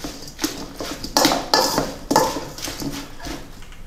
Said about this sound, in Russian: Немножко помешаем.